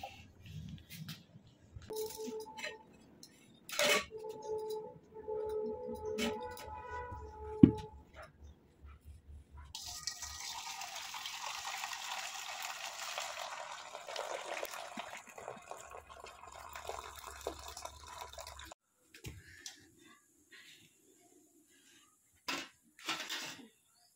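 Metal pot clanks as dal is set on a village kitchen stove, with scattered dish and utensil knocks early, then a longer stretch of broadband hiss and bubbling water sound, followed by a few isolated clunks after a brief quiet gap.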